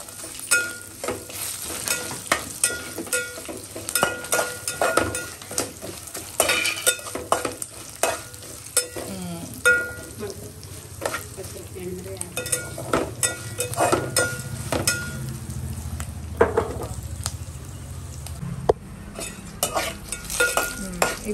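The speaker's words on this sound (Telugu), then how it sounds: "ఇలా అల్లం కూడా ఇప్పుడే వేసుకోవాలి, మంచిగా రోస్ట్ అవుతుంది." Ginger sizzles as it roasts in a pan for leftover-rice pulihora, with steady frying crackle and repeated scraping stirs of a spoon throughout, close and moderately loud, no talking.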